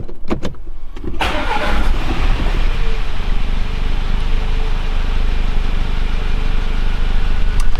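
An Audi 2.0 TFSI engine cranks and catches about a second in, then settles into a steady, close, loud idle that runs to the end.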